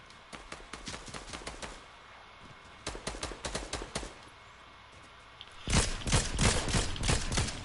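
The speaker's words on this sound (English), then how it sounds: "I hear gunfire." Bursts of rapid gunfire crackle in rounds in Fortnite, with pauses between volleys, then a louder, denser stretch of shooting at the end.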